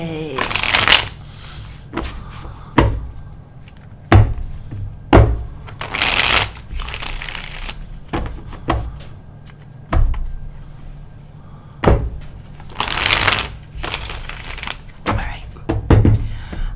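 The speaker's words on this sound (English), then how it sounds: "Let's get shuffled." Tarot cards are shuffled in repeated riffling bursts, close and crisp, separated by short pauses with soft handling noises.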